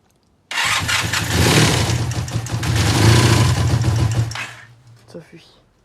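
A motorcycle engine starts abruptly and revs up close, its rough note rising and falling twice before settling to a lower idle and fading, with brief voices at the end.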